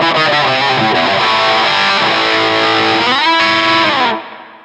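Electric guitar played through a high-gain distortion pedal set to lower gain, a steady, loud run of overdriven chords and notes that rings on, then fades out at the end with no talking.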